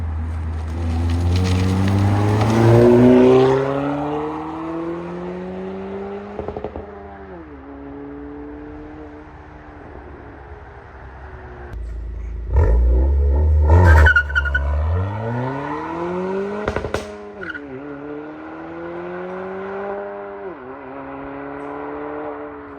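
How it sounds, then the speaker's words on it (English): Acura Integra A-spec fitted with an MBRP exhaust makes a heavy-throttle flyby. The engine note climbs loudly and rises as the car approaches. It swells to a roaring peak as it passes close by, then trails off and is followed by a second strong pull. "this is going to be a heavy throttle flyby"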